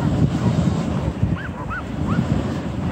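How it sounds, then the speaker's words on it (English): Sled dogs on the Knik River glacier whimper and yip with short, rising whines over a constant rumble of wind and movement. The dogs sound moderately distant. "The doggies look happy. They're doing what they're supposed to do."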